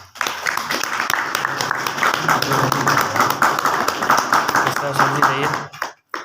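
An audience claps steadily and loudly at an indoor business event, a dense continuous patter lasting several seconds before tapering off, with voices audible underneath.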